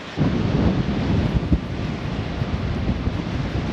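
Strong wind buffets a GoPro action camera microphone by the sea in a steady, rumbling roar with low thumps, loud and continuous throughout, with no voices audible.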